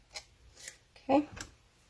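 Scissors snip a few times to trim back tape on a Christmas craft project, each cut a short crisp close snap, with a brief voice in between.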